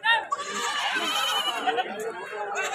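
Goats bleating at a Friday goat market in Banaganapalle, several bleats rising over a steady crowd din and nearby talk.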